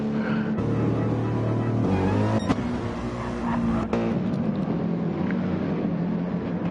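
Saloon race cars in a Sunday league race roar past with sustained engine drone and shifting pitch, several cars overlapping, loud and fairly close, with a sharp burst of tire noise midway and no voices.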